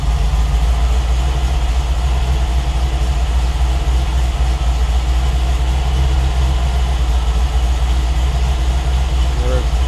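A Triumph TR8 V8 engine idles after a cold start, a steady low rumbling drone holding constant and fairly loud throughout, with no clear change in speed.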